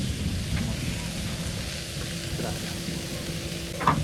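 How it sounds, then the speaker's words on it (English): Meat sizzles steadily on a hot grill at a camp on an island, a dense continuous crackle with a low rumble beneath it throughout. "Ahí ponemos el primero, que tenga un buen sizzle."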